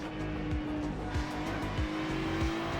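Race cars in a racing video game roar and skid as drivers spin out into the gravel on cold tires, with engines droning loudly and rapid repeated tire squeals layered close together throughout.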